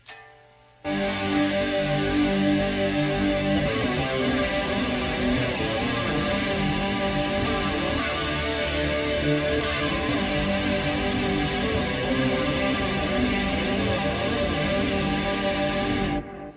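A sustained 80s metal-style electric guitar with distortion, chorus and delay rings out with a shimmering, echoing wash, held chords droning for a long stretch before stopping abruptly.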